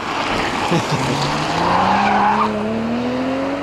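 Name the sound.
white BMW 440i car driving by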